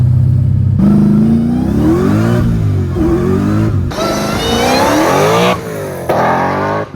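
A Nissan 350Z with a swapped Hellcat engine accelerates hard on a street, its loud engine revving up through several rising gear pulls with brief shifts between, the rear tires losing traction.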